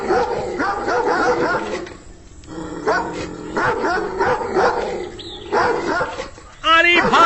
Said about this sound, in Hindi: जोर जोर से भौंकने लगता है और दरवाजा खोलने की कोशिश करता है